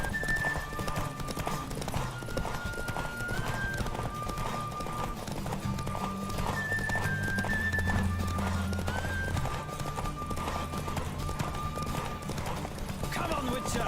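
Hooves clip-clop in a steady galloping rhythm during a horse race in the video game Witcher 3, with a horse whinnying, game music and voices talking over the running hoofbeats.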